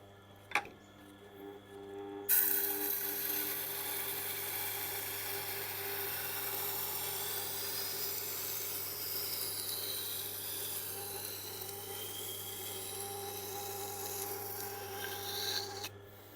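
Steady wet-stone grinding of a Wüsthof kitchen knife on a Tormek T8 water-cooled sharpener, a continuous even rasp beginning after a brief click and holding level throughout with a faint motor hum underneath, no talking.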